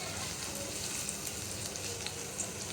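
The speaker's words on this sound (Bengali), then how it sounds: "পেঁয়াজ কুচিটা দিয়ে ভালোভাবে একটু ভেজে নেব।" Chopped onion sizzling steadily in hot oil with dried chilies in a pan, a continuous close crackling fry with soft stirring, no talk, while cooking beef tongue bhuna.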